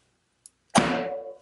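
A knife slices once through a bar of homemade beer soap: a tiny tick, then a sharp scraping cut that rings briefly and fades over about half a second, close and alone.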